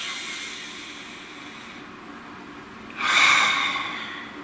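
A single deep breath drawn in, a short breathy rush that swells and fades after a quiet stretch, close and alone.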